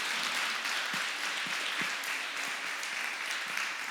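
A congregation at a theological seminary class applauds Jesus after a prayer, with steady, sustained clapping from a group that stays even in level throughout.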